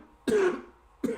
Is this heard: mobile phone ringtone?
no